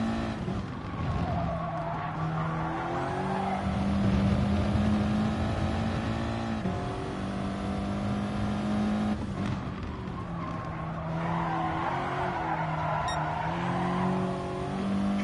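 Race car in a racing video game roaring through corners, engine pitch rising and falling with gear shifts while tires skid and squeal, steady and close with no talking.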